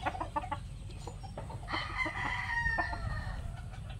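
Chickens in a breeding pen cluck in short bursts while a rooster lets out a clear crow midway, all close and moderately loud against a low farmyard hum.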